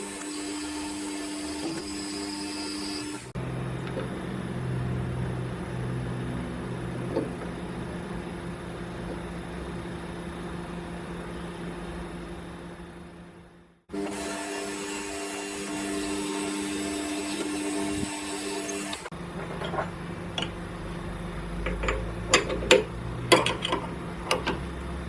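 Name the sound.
lathe cutting metal with 0.2 radius Mitsubishi tips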